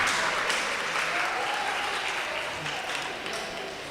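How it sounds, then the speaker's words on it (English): Audience applause at a grade 5 academic bowl quiz event, a steady wash of clapping from a crowd that gradually fades over a few seconds. "Give them a round of applause, please,"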